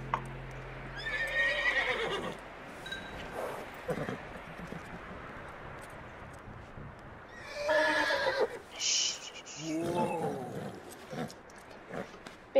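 A horse in the Red Dead Redemption video game neighs several times over a steady wash of background noise, with a loud whinny early on and more whinnies and snorts later, some faint hoof clops between.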